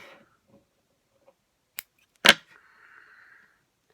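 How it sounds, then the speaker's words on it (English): Fishing line tag end snipped off after an overhand knot on a crappie jig rig: a soft click, then a sharp, louder snip about half a second later, close and alone in a quiet setting. "And just cut your tag end off."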